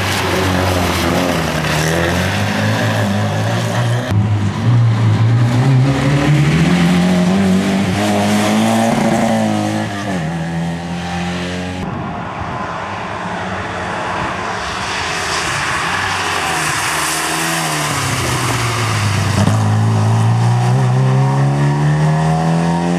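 A 1976 historic rally car leaves the stage start at Historic Vltava Rallye, engine revving hard and climbing through gears, loud and close, then pulling away before another rising run.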